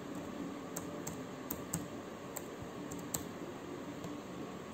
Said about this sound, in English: type the text at the cursor position by pressing the different keys